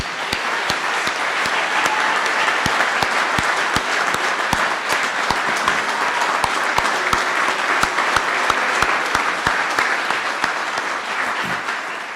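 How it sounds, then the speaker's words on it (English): Sustained audience applause at an Ignite Salisbury event, dense steady clapping from a crowd filling the whole stretch without a break, loud and close. "Let's give these guys a round of applause,"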